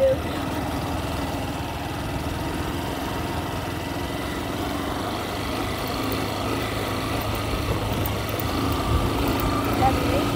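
A motorcycle engine runs continuously at close range, holding a steady idling-to-revving drone with slight rises as gears are shifted; people talk over it at times.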